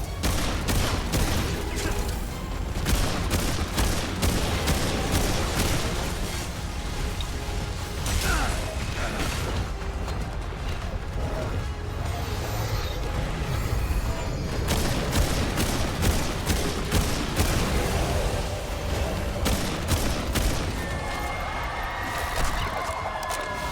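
Gunfire in the video game Remnant 2 crackles in quick repeated bursts of sharp shots, mixed with mechanical clatter and steady background game noise, with no voices.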